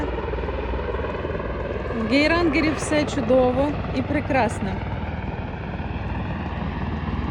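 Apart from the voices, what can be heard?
helicopter flying overhead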